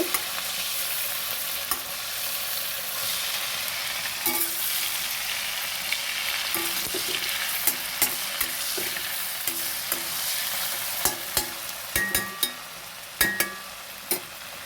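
Prawns frying in hot oil in a pan for chingri malaikari, a loud continuous sizzle with scattered pops and spatula clicks as they are turned, growing busier toward the end.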